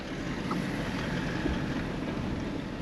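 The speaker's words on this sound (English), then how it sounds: "It's a bit breezy today." Steady wind gusts buffet the microphone on a breezy day outdoors in the Kalahari, a continuous low rushing noise at moderate level with no one speaking.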